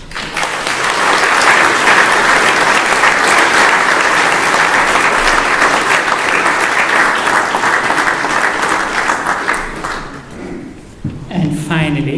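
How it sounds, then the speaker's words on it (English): Loud, sustained applause from a church congregation at a parish ceremony honoring a parishioner at St. Mary's Avondale, dense clapping filling the room for about ten seconds before tapering off as a voice resumes. "the applause should not be for me, the applause should be for God"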